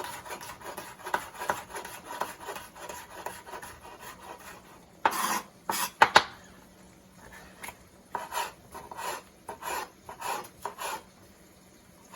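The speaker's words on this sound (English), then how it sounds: "we're going to cut them into small strips like this" Knife slicing jalapeño peppers into small strips on a cutting board, a run of quick, close scraping cuts followed by several louder, sharper chops spaced apart.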